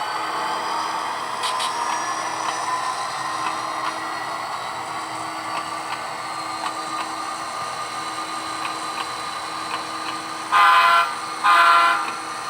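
Two short horn honks sound near the end, loud and close, over a steady engine and road hum from inside a moving vehicle.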